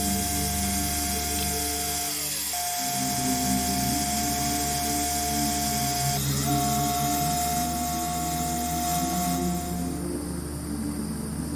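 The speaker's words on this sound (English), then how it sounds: "But we're going to start by grinding this chisel," A steel chisel held against a grinder, sharpened before a copper wire inlay; a steady machine whine with tonal hum runs through, shifting pitch briefly as the blade is pressed and lifted, close and continuous, with no talk.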